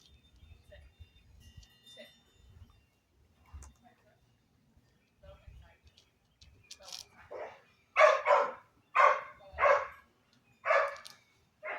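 Several dogs, including a new puppy, barking at home: scattered faint yips and sounds early on, then a close, loud run of about eight sharp barks in quick succession in the second half.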